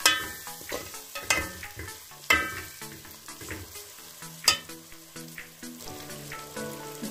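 Cauliflower manchurian fries in a pan, with sizzling and sharp clattering stirs rising over background music, the loud knocks spaced irregularly through the sound.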